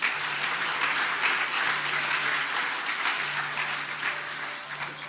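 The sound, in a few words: audience applauding at a Baptist Day celebration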